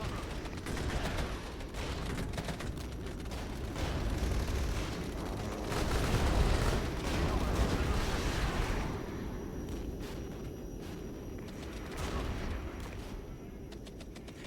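Heavy rolling gunfire and explosive bursts from A-10 attack aircraft strafing in a realistic real-time strategy war game, a dense sustained roar with repeated thumps, loud and continuous with little pause.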